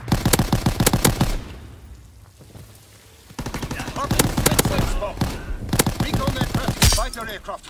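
Rapid machine-gun fire from a fighter aircraft on a strafing run in a video game, loud bursts of rattling shots that pause briefly and then resume, with a faint radio-style voice underneath.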